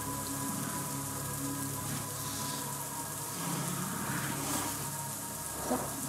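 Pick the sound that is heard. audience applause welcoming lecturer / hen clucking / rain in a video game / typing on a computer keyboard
rain in a video game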